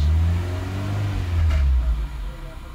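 A Toyota Corolla AE engine, fitted with a new IACV and still cold, idles with a deep low rumble, then revs up briefly before settling back down, close and fairly loud.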